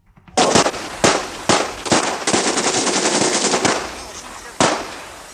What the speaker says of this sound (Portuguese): então os disparos ecoaram